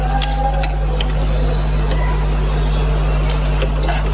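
A sewing machine runs steadily while stitching a kurta seam, a continuous mechanical hum with a faint ticking rhythm that stays even and fairly close throughout, with no talking.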